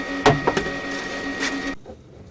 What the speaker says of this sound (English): I have a printer running in the background. That's why you can hear it.